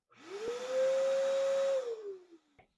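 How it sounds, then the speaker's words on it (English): A shop vacuum with a dust collector and hose reel spins up in a small garage, holds a loud, steady whining drone, then winds down after a click, with a second click at the end. "So number 3 on the list is the vacuum with dust collector and hose reel,"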